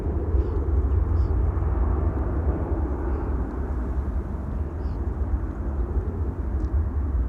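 A KLM Boeing 737 departs runway 18 Left at Schiphol, heard as a steady, loud broadband jet roar with heavy low rumble that holds evenly throughout, with no voices.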